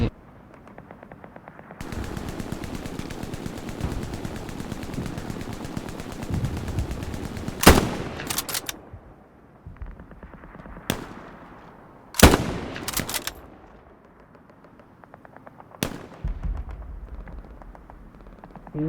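Rapid bursts of automatic gunfire in a war video game, sustained loud rattling with several sharp louder shots standing out, continuous and close.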